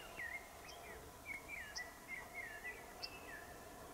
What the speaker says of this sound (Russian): Слушайте, как птички поют.